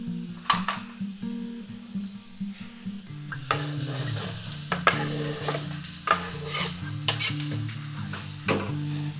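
Chicken and carrots sizzle steadily in a frying pan while a utensil stirs and scrapes, with irregular knocks and clinks against the pan over a soft, continuous frying hiss.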